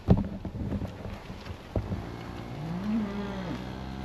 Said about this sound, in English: These cows are destined for the table